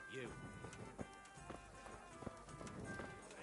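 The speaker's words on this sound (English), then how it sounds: "I'm going to jump on a horse." Horse hooves clop in a steady galloping rhythm during night-time riding in the video game Kingdom Come: Deliverance, with game music and speech running over them throughout.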